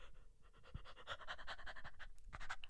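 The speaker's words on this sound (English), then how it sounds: "Why am I yawning?" A person yawns, a drawn-out breathy exhale with a strained, voiced edge, close and fairly quiet, ending in a few short panting breaths.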